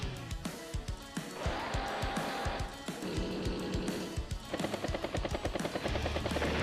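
Rapid percussive blasts from mech artillery and other units in the turn-based strategy game Advance Wars: Days of Ruin, a string of sharp repeated shots with booming low thuds, layered over game music.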